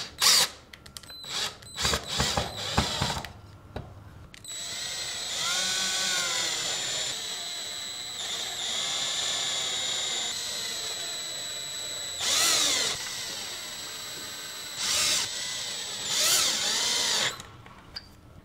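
A power drill whines and bores through wood, with short bursts at first, then a sustained grinding run, followed by several brief revving pulses.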